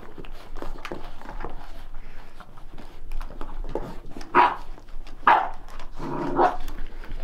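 Rottweiler puppies growl, bark and yip in short bursts, with a few louder yaps near the end over a busy, scuffling background.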